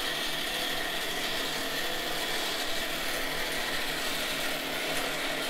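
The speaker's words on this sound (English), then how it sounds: "You can see the NEMA go in one direction, and then obviously the slider in the background going in the opposite direction." NEMA stepper motor driven from a Raspberry Pi, moving a screw-thread slider in one direction, heard as a steady, faint mechanical whine and hum with no talking.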